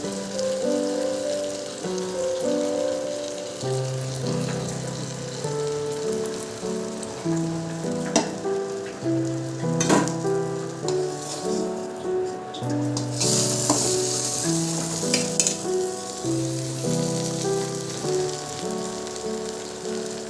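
Roti frying on a pan over a gas flame, pressed down to crisp, makes a continuous soft sizzle under loud melodic background music, with a few sharper clicks along the way.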